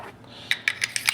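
Bolt of a Ruger Mark III 22/45 pistol being slid back into place, a quick cluster of small, close metallic clicks and scrapes over about a second.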